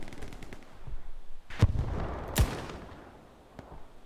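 Gunfire in the Hell Let Loose war game: two sharp, loud shots about a second apart stand out over a rumbling battlefield bed, with a fainter crack near the end.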